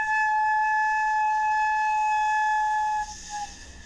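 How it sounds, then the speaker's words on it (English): A flute headjoint is blown while being tilted like a seesaw: one clear, steady, bright tone holds for about three seconds, then breaks off into breathy airy noise as the angle loses the sound. "So start blowing and tilt this way and see how long it is before you lose the sound."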